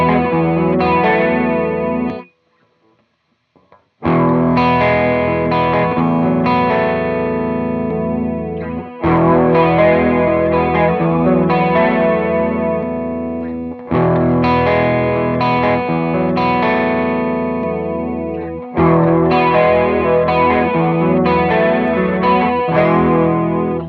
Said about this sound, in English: This chorus pedal has no problems with high input levels